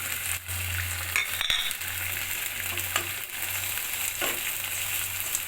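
Tomato puree hits a pan of hot oil for a Bengali rohu and catla fish curry, giving a steady sizzle with a few spatula scrapes and clinks over a low hum, loud and close with no voices.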